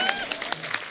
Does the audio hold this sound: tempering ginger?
no